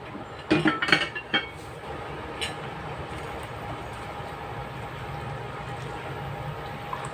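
Chopped cabbage drops into a cooking pot for soup, with a few sharp clinks and clatters of a metal pot and utensil near the start, then a quiet low simmer.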